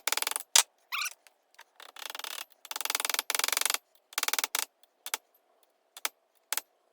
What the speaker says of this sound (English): lay this up on top of the vise, take a socket that fits it, drive it out, drive a new one in